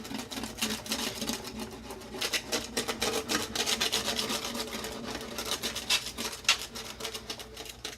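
A small paint scraper dipped in vinegar scrapes black spots off an oven surface in quick, repeated rasping strokes, close and fairly quiet, with a steady scratchy rhythm and no talking.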